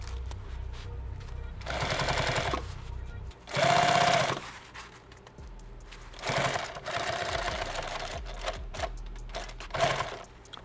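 Sewing machine stitching a party bag in several loud bursts of rapid, close mechanical hammering, with quieter pauses between runs and a voice talking in the gaps.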